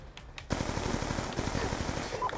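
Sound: PDW submachine gun firing in Black Ops 2 video game

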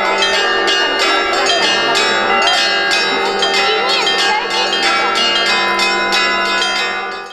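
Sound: church bells ringing

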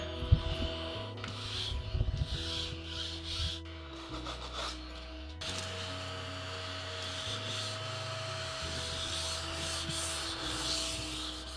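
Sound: small desk vacuum cleaner running

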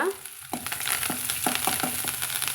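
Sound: stirring onions frying in a pan

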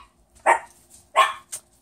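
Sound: dogs barking

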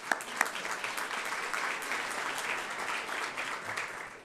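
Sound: applause

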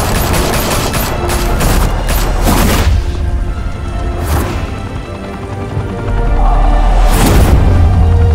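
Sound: gunfire in the video game Batman Telltale Series

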